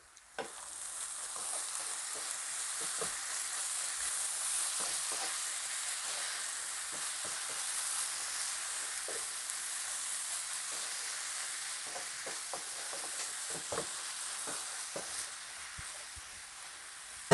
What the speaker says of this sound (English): add in the corn and give this a nice good mix